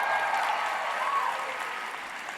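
A large gathering of people applauds and cheers in a dense, sustained wash of clapping that holds loud and steady throughout, tapering slightly toward the end.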